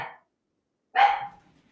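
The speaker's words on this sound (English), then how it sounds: "You don't have to be barking. I'm dog sitting." A small dog barks close by, one sharp bark after a brief trailing sound, then quiet.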